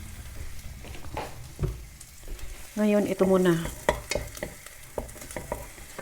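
Fried rice with garlic and carrots sizzles in a pan with a steady crackling hiss, while a person talks briefly and stirs with a few sharp scraping clanks.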